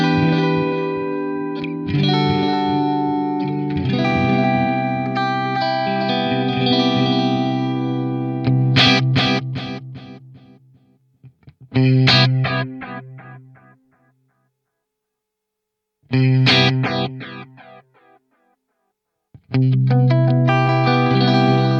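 Electric guitar played through a Strymon Timeline or Boss DD-500 delay pedal, sustained chords and melodic phrases with echoing repeats and lush trails, broken by short silences between passages.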